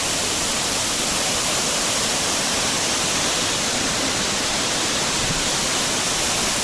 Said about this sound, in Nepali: तपाईँहरूलाई म यो वाटरफल देखाउने कोसिस गर्नेछु होइन।